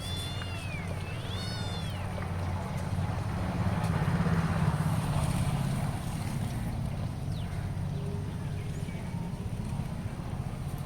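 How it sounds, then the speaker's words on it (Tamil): A kitten mews a few times near the start outdoors in a garden of plants and flowers, then stays quiet while a continuous low rumble of wind or engine noise fills the rest. "என்னம்மா பூனைக்குட்டி வேறு கத்திகிட்ருக்கு."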